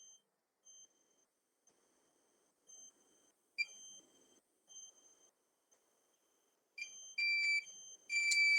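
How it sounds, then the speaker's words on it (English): An alarm on a robotics training kit sounds after its reset button is pressed: short, thin electronic beeps spaced through otherwise near-silent air, quiet at first and then clustering into louder, faster bursts toward the end. "If you press this reset button, your alarm will go."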